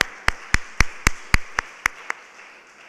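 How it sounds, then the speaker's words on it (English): About nine sharp, separate hand claps at a guest lecture on project management, a few people clapping slowly and unevenly before fading out, with no talking over them. "Give a round of applause here."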